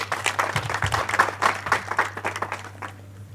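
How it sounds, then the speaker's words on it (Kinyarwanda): Applause rings out at a church wedding ceremony, a crowd clapping steadily for about three seconds before fading to quiet, with a low steady hum underneath. "mumuha amashyi nawe"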